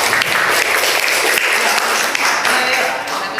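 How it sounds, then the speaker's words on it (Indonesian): A classroom of students breaks into steady, dense applause lasting a few seconds, loud and close throughout. "Kasih tepuk tangan."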